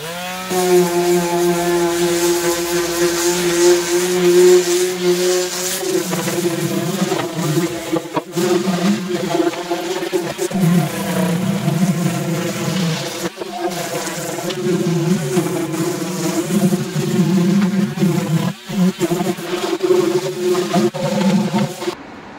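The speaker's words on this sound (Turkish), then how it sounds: "Şöyle ufak bir zımpara makinem var." A small, low-noise electric sander works over a wooden cat house, giving a steady, close motor whine with a buzzing tone that holds for the whole stretch with only brief dips.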